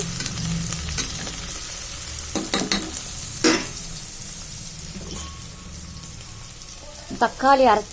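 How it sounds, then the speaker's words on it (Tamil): Onions with a handful of mint sautéing in a pan, a constant close sizzle with brisk stirring scrapes throughout, and a voice briefly near the end. "போட்டு வதக்கிக்கணும். வெங்காயம் நல்லா செவந்த வதக்கிச்சு"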